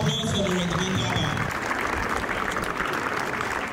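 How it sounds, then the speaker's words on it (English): A crowd at a school anniversary cadet display applauds, a dense wash of clapping that holds fairly steady for a few seconds with no speech on top. "Please, a hand of applause for the regiment cover."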